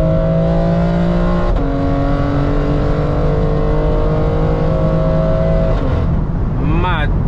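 An 830bhp BMW X3M pulls hard under full throttle, its engine droning loud and steady from inside the cabin as the revs climb, then a sharp gearshift rise near the end.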